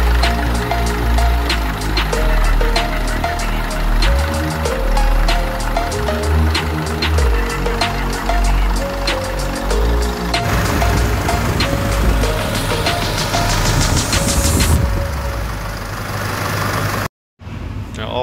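An Isuzu 4JJ1 diesel engine idles steadily while warming up, with a loud, even clatter and deep rumble running throughout before a brief drop near the end.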